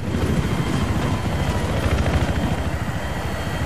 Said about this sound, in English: Enemy helicopter spotted, over.